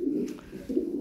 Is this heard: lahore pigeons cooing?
yes